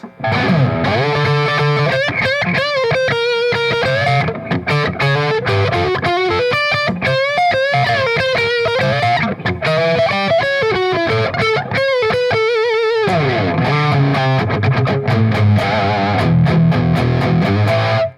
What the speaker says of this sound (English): the front pickup with distortion on this thing is so huge, so buttery